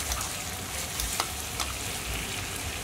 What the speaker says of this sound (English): once you get a gentle boil going like that